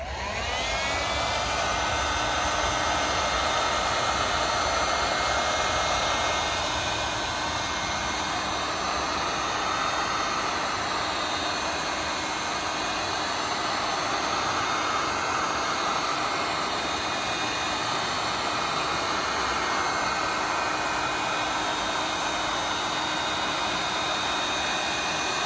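A heat gun heating cast vinyl film, a steady loud blowing roar that runs on unbroken throughout, close up, with no talking.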